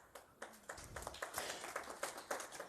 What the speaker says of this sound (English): That got about a third of the audience's applause.